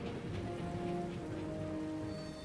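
Steady rain falling during a staged locomotive chase, a dense even patter held at a constant level throughout with no voices.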